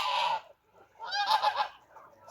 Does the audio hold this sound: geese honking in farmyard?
yes